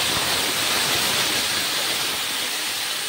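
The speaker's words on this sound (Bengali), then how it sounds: "একটু জল দিয়ে দিলাম বাটিটা দিয়ে" Water tipped from a bowl into a pot of mango and jaggery chutney gives a continuous, fairly loud splashing rush that fades slightly toward the end, with no talk.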